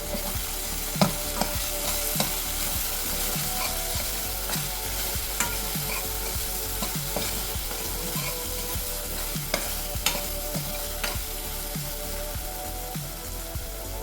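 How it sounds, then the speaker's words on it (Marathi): A spoon stirs a teaspoon of garam masala into a simmering gravy in a pan, scraping the base in regular strokes over a constant close sizzle. The stirring is loud and steady, with no one talking. "आता ह्यामध्ये मी घालत आहे 1 चम्मच गरम मसाला. सर्व घाटून घेऊया."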